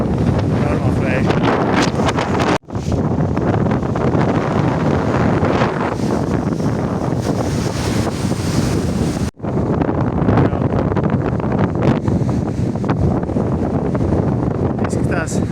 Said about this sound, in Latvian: Normāls vējš.